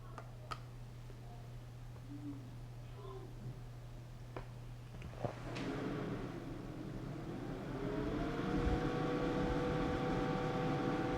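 An electric kettle heating water on a portable power station clicks on, then builds into a rising hiss and whine that swells louder over several seconds, with a few faint clicks and handling sounds before it.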